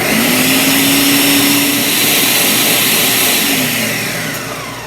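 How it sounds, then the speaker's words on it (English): A countertop blender whirs loudly and steadily, blending a green apple cinnamon smoothie, with a constant motor drone and a slight pitch drop as it winds down at the end. "Put my blender on and."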